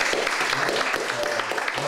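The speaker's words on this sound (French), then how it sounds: "Je vous demande d'applaudir." An audience at a poetry festival gala applauds a police prefecture representative: sustained, full-bodied clapping from a crowd, with rhythmic low thumps running through it and a faint murmur beneath.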